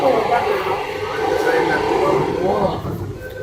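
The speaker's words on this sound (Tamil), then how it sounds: "பேரலா இன்னொரு கிரீன் மெட்ரோ கிராஸ் பண்ணிட்டு இருக்கு பாருங்க" A green line metro train runs along a parallel track in an underground Bangalore station, a continuous low rumble and rolling rush that holds steady for a few seconds.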